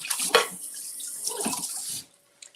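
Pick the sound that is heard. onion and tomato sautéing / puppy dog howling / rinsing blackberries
rinsing blackberries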